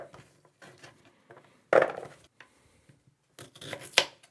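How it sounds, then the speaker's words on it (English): Carrots chopped with a knife while prepping vegetables for a habanero BBQ hot sauce, a few sharp, separate cuts landing at irregular intervals against quiet pauses, close and clear. "Chop the carrots."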